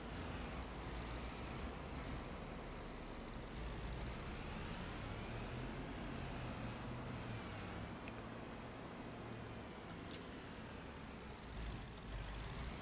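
A truck drives in the Farming Simulator 25 video game, its engine giving a steady, loud road drone whose pitch rises and falls as it accelerates, with a faint hiss. No one talks.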